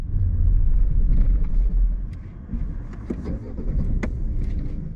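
A car driving on a suburban road in Mill Hill during a mock driving test, passing an oncoming bus; steady close engine and road rumble, louder at first, with faint clicks and no talk.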